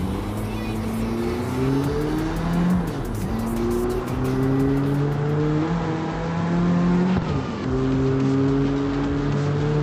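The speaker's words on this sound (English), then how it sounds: "All right, Roxy. Let's cruise around a little bit" Car in the street-racing game CarX Street, driven with a steering wheel: engine revs rise and fall in repeated gear-shift sweeps, with tire squeal, loud and close, and a voice talking over it at times.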